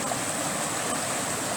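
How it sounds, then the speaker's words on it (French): River water pours into a mill race, a dense, steady rushing wash that stays loud and unbroken from start to finish with no voices. "la rivière arrive d'en haut. Elle se jette dans le bief ici."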